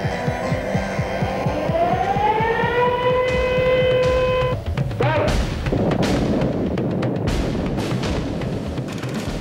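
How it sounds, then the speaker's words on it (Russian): A loud siren wails at a missile launch, its tone sliding upward and holding for a few seconds before giving way to a deep, rumbling roar with scattered thuds. "Дать сирены."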